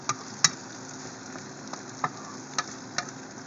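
Shrimp with garlic sizzling and frying in a pan as it is mixed, a steady close crackle with a few sharp ticks of the utensil against the pan.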